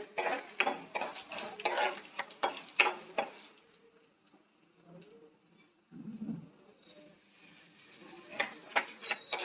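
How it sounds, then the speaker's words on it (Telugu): Cumin and mustard seeds tossed into hot tempering oil, with faint sizzling and popping under sharp clinks of a spoon stirring in a metal pan, the clatter coming in bursts with quieter gaps. "ఇందులో జీలకర్ర, ఆవాలు వేసుకుని ఒకసారి వేపుకోవాలండి"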